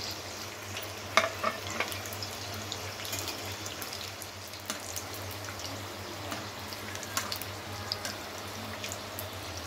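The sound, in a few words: steamed veg momos deep-frying in oil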